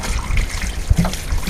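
Water poured from a watering can over a BMW E46 330i rear brake caliper area, a steady close trickling splash running throughout with a small dull knock near the end.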